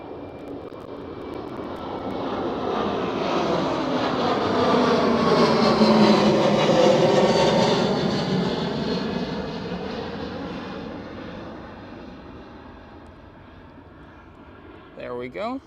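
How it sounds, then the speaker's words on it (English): An Airbus A321 long-range airliner takes off at Amsterdam Schiphol, its broad engine roar swelling to a loud peak and then fading slowly into the distance. "speeding with an A321 long range. Rotate, positive rate and gear up."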